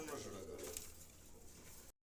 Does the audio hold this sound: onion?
no